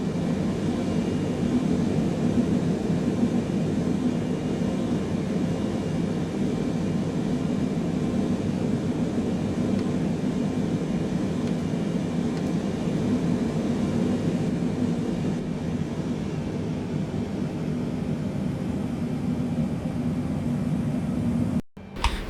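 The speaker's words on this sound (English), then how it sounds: "I'll start up the plane, and we will get the plane headed toward Hong Kong" Engines of a Boeing 777 airliner in Microsoft Flight Simulator 2020, a steady, even cabin drone with low rumble that holds for the whole stretch before cutting off abruptly at the end, no talking.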